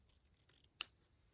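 Scissors snip through thread during beading and ribbon-flower stitching: one crisp, close cut after a faint rustle, in an otherwise quiet room.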